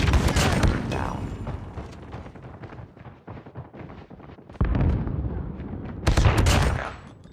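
The HS0405 shotgun fires in the mobile shooter Call of Duty: Mobile. Loud, booming blasts open the clip and return twice near the end, with dense gunfire and battle noise between them.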